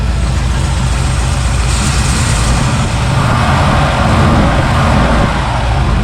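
Engine of a 1961 Pontiac Laurentian running steadily after its first start in 30 years, a loud continuous low rumble and idle drone up close with no break.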